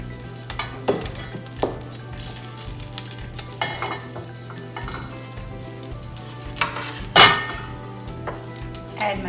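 Oil sizzling in a pan holding partially cooked salmon, a close steady crackling hiss with occasional scrapes and clinks of a utensil against the pan.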